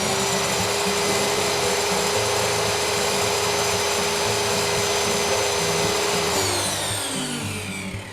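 A homemade portable table saw motor runs continuously with a loud, steady whine and broadband roar, its trigger held on by a cable tie, then begins spinning down and dropping in pitch near the end.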